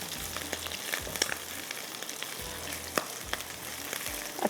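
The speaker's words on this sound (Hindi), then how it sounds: "फ्राई कर रहे हैं यहाँ पर।" Nihari masala with crushed chili and salt frying in a pan: a close, steady sizzle broken by repeated spoon scrapes and taps in an uneven rhythm, with no one speaking.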